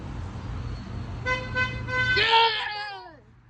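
A vehicle horn on a road blasts in a few short toots, then gives one louder, longer honk near the end, over traffic rumble.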